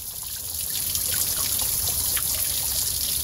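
Old green coolant draining from a Porsche Cayenne 4.5L into a catch container, a continuous close trickle and splatter of liquid that runs steadily without pause.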